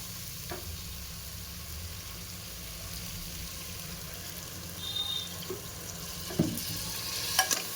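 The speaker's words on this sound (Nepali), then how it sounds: "अब चाहिँ यसमा म पानी हाल्दैछु।" A low sizzle of goat meat curry simmers quietly for several seconds, then water splashes into the pot near the end, with a couple of soft knocks from a utensil.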